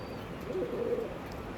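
Andhra pigeons coo softly in a loft, a low, brief murmuring call at moderate distance over steady background hiss.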